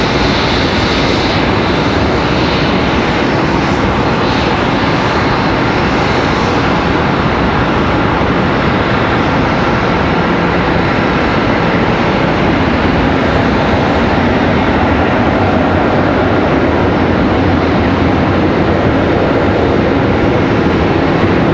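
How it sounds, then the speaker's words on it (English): An American Airlines Airbus A319 departing Charlotte Douglas airport, a loud, continuous broadband jet roar that holds steady throughout with no talk. "Next departure, we've got American Airlines 2376 off to Detroit and A319."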